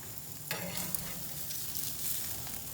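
Steaks on a charcoal grill give off a steady, broad sizzle as they are turned over, with a couple of soft scraping knocks near the start, close and moderately quiet.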